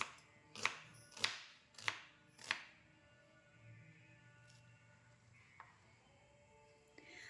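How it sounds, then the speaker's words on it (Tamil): Four sharp knife chops through onion on a board in a steady rhythm, close and distinct, followed by quieter kitchen background with a faint tap or two. "நம்ம ஆனியனை கட் பண்ணி எடுத்துக்கலாம்"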